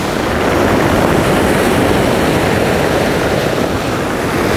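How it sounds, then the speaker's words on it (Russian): Big sea waves break on a Black Sea beach at Yuzhnaya Ozereevka, a loud continuous roaring surf with heavy wind buffeting the microphone, no voices. "Ох ты, вот это волны"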